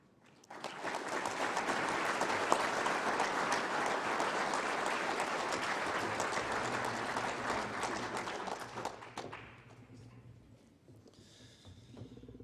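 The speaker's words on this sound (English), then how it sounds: "Please join me in one more round of applause for our 2023 Distinguished Eagle sponsors" Sustained applause from guests at an Eagle recognition dinner, a full room of clapping that swells in quickly, holds steady for several seconds, then thins and fades out near the end.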